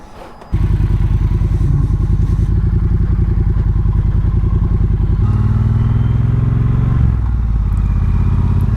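A Triumph Bobber motorcycle pulls away after a brief quiet start, its engine thumping loud and steady, with a gear change near the middle and another near the end, with no talking.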